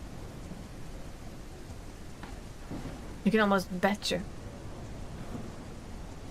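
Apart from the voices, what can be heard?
thunder and rain in a video game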